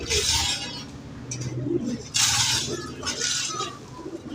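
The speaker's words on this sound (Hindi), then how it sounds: "ये बहुत लाजवाब ये कबूतर है।" A male high-flying pigeon coos at a pigeon shop, giving repeated soft, throaty rolling coos close by, with faint clinks and shop noise behind.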